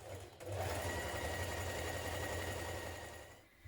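A sewing machine runs a stretch or zigzag stitch along a 1.5 cm seam on a knit dress, a steady, continuous mechanical whir that holds for several seconds before easing off, heard alone and close.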